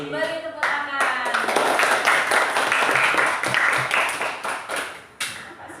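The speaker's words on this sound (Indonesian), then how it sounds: "beri tepuk tangan" A classroom breaks into applause, with a brief voice at the start and then dense, lively clapping from many hands that tapers off, followed by a few last claps.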